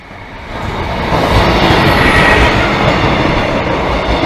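A train passes the Great Northern Terrace level crossing heading for Doncaster, a steady broadband rumble of wheels and carriages that swells after the first second and holds loud and close to the end.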